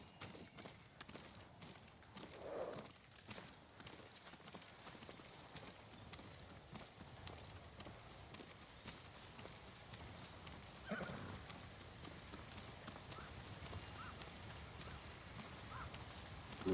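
Horses move about in Ghost of Tsushima, with soft clip-clop hooves and an occasional whinny over a quiet outdoor ambience, fairly faint and continuous with no talk.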